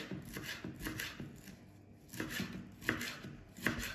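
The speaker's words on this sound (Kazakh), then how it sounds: "жаңағы сәбізімізді де барлығын осындай кішкентай қылып, майда қылып тураймыз" A knife finely chops carrots on a cutting board in quick, uneven bursts of crisp taps, close and fairly quiet, with short pauses between runs.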